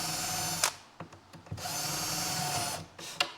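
Power drill with a centering bit punching pilot holes for cabinet hinges through a jig on a bathroom vanity build, several short whirring bursts starting and stopping close by with brief pauses between.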